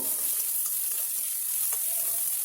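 Eggs frying with ginger garlic paste for egg burji, a continuous close hiss of sizzling oil with occasional soft pops and crackles.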